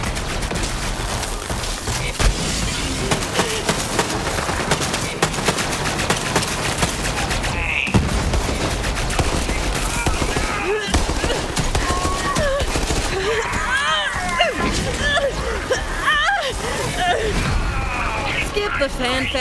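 Gunfire in the video game Borderlands 3: dense, continuous rapid shots and bursts with booms and explosions layered throughout, loud and busy, with game effects mixed in.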